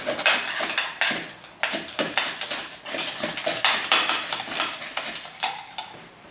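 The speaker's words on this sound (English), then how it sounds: "Stir the ingredients gently" Ice rattles and clinks against a glass as mint julep ingredients are stirred with a spoon, a busy run of close, bright metallic taps and scrapes with no talking.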